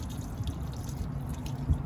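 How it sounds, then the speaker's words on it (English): Gray water draining from an RV holding tank, a low, steady trickle and gurgle of liquid running out, faint and continuous with an occasional drip. "So we'll just let that drain."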